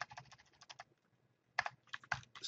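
Quick bursts of keystrokes on a computer keyboard as a web address is typed, close and fairly quiet, with a pause of about half a second between the first and second flurries.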